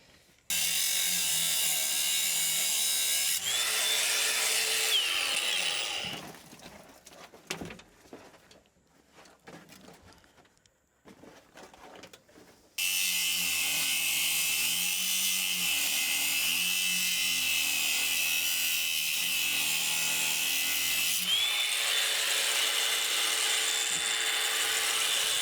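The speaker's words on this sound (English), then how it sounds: "I'm gonna try to do this inside the cab with the cutoff wheel," A cutoff wheel grinds through a steel bracket inside a loader cab, a loud steady high whine that drops away midway for several seconds of scattered rattles before cutting back in and running on.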